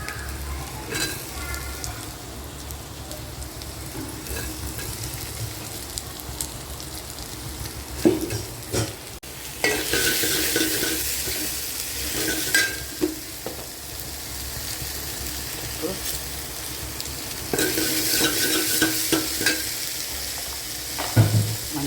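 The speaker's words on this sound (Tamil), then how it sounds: "பருப்பு தாளிக்கலாம் வெங்காயம் பூண்டு வரமிளகாய் கருவேப்பிலை போட்டிருக்கிறேன்" Dal tempering with onion, garlic, dried red chilli and curry leaves frying in hot oil, a steady crackling sizzle with louder bursts as ingredients are stirred, close and continuous with no talk.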